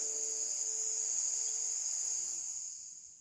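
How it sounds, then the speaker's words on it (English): Crickets chirp at night in a steady, high-pitched continuous trill that fades out toward the end, with a faint lower hum underneath and no voices. "Then we fall asleep to the sounds of crickets"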